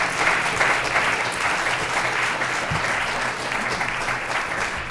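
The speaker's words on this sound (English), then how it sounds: "So please give a big round of applause for our panelists." Sustained audience applause for the panelists at an Ebertfest 2013 film-festival panel discussion, a dense, steady wash of clapping hands that holds evenly throughout without pause.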